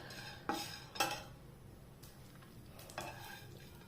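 Seeds dry roasting in a pan, with a few distinct scraping stirs of a utensil against the metal at intervals over a faint, steady dry rustle.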